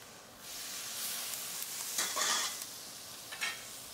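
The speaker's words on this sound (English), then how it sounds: "add them, get them all stirred up to add the flavor" Vegetables stir-fried in a hot pan for a squid dish, a steady sizzle with stirring that swells in brief bursts, with no one talking.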